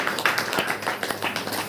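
A church congregation at a Hindi-language Saturday prayer meeting claps together in brisk, steady rhythm, moderately loud and close.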